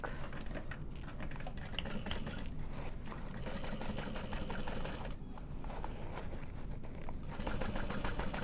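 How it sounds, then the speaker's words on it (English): A sewing machine top-stitching through the bulky upper panels of a handbag, a continuous rapid mechanical clatter running steadily throughout with only slight dips, close and fairly quiet. "sewing on the upper panels through the bulk"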